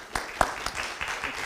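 Audience applause at a Coffee County political forum for the candidates: a short burst of clapping with a few sharper claps standing out from a steady wash of hands.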